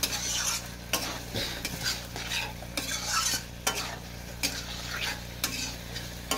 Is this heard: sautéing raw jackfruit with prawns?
yes